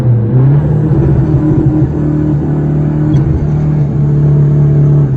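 A remapped Toyota Vigo pickup engine revs hard in neutral, a loud, close, sustained roar that climbs and holds with a steady throb and a brief dip midway.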